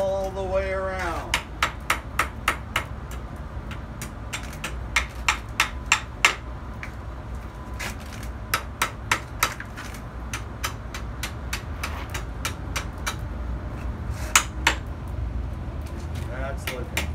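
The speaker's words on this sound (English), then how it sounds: "I'll use this smaller hammer to get the shape that I want all the way around." A small hammer shapes metal at a colonial blacksmith demonstration, sharp ringing strikes landing in irregular bursts and steady runs over a low background hum, close and clear.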